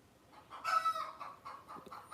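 Backyard chickens cluck and call in a short burst, one drawn-out squawk followed by choppy clucks, moderately close and alone without talk.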